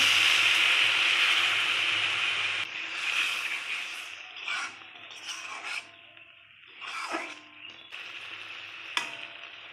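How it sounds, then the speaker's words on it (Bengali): Curry broth for a prawn dish bubbles in a pan, a close, airy hiss and sizzle that starts strong and steady. It then thins into uneven bursts of bubbling with a brief scrape. "তো দেখো ঝোলটা ফুটে উঠেছে"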